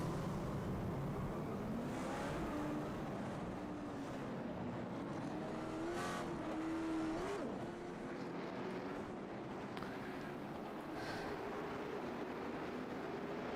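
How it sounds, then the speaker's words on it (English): Pace car and race cars rolling off at Nashville Fairgrounds Speedway, a steady engine drone from several cars at moderate distance with slowly wavering pitch, no talk over it. "these guys are going to roll off and get ready to go. There goes the pace car."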